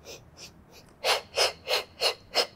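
Breathing during an intermediate athletic Pilates mat workout: a few soft breaths, then five strong, evenly spaced airy exhales in quick rhythm, close and clear with no talk.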